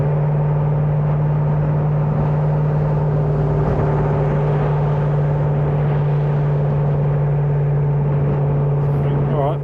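An LS V8-swapped Toyota Hilux drones steadily while driving, a loud low engine hum with a constant pitch and a slight rise near the end, captured from a roof-mounted camera.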